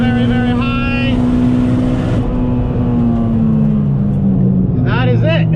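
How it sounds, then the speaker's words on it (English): A turbocharged car engine at wide open throttle on a dyno run, droning loud and steady as revs and boost climb, then shifting pitch; a voice talks over it. "So we're wide open right now, boost's building, just keeping an eye on everything."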